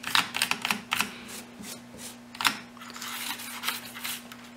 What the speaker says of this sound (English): I'm going at it with the air now.